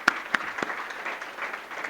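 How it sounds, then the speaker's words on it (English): At a presidential inauguration speech, a few loud, distinct claps ring out up close, then fade into softer, scattered applause from the audience for under two seconds. "a huge round of applause for that."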